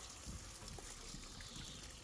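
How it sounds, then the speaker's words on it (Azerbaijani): Ice-cold spring water flows continuously from a source in Vandam settlement, Qabala district, a soft, steady gushing trickle heard alone and fairly quiet. "Suda bulaqdan gəlir, buz kimi. 24 saat axır."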